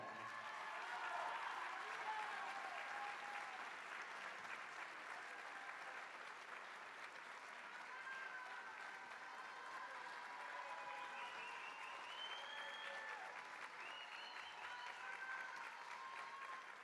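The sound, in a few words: audience applause welcoming a singer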